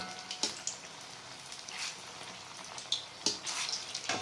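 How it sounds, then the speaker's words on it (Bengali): Poa pitha batter made with mango and coconut fries in hot oil with a soft, steady crackle. Occasional louder pops and spits sound close by, with no voices. "এরকম উল্টে পাল্টে দুপাশ এইভাবে ভেজে নিতে হবে"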